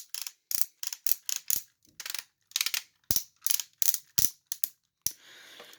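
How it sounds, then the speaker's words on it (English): The leg ratchet joints of a large Maketoys Iron Will robot toy click as they are moved, a close, crisp series of rapid ratcheting bursts separated by short pauses, ending in a softer scraping sound. "you really need the ratchets in the legs, because the legs are supporting all of the weight of the robot"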